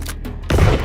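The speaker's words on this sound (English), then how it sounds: "Come on, man, how you gonna survive that gunshot?" A single loud gunshot from a 9mm handgun cracks out abruptly about halfway through, a sharp blast with a short noisy tail after a brief stretch of dull background.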